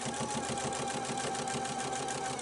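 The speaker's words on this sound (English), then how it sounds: "Oh, I love my pfaff. It is literally going through so many layers right now." A Pfaff sewing machine stitches rapidly through many layers of fabric with a steady, fast mechanical whirr and rhythmic needle chatter, close and continuous.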